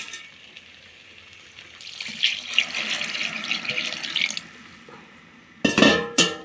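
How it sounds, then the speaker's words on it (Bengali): Pre-heated hot water poured from a vessel into a pot of rice being cooked for biryani, a steady splashing pour for about two seconds, then quiet, then a short clatter of the pot near the end. "এবার এখানে দিয়ে দিব গরম করে রাখা পানি।"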